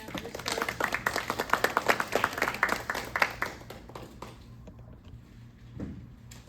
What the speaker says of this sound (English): could we have a quick applause for Pam?